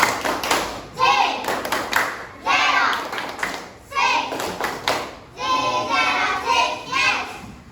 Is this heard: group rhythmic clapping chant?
yes